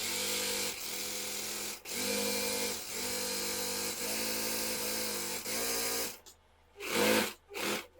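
A sewing machine stitches a fabric border in steady whirring runs, stopping and restarting several times, with a lock stitch at the start, then falling quiet near the end with a few short mechanical bursts.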